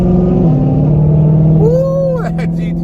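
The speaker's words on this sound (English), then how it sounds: "That GTR just took off." Nissan GT-R pulling away hard, a loud close engine note rising in pitch as it accelerates, then trailing off with a whistling rise at the end.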